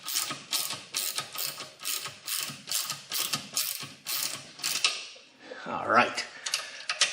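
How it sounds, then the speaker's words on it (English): A Harbor Freight hand ratchet cranks a bolt on a Toyota Supra MK4 rear subframe, giving steady repeated bursts of close ratcheting clicks, with a brief spoken word near the end. "using my Harbor Freight ratchet"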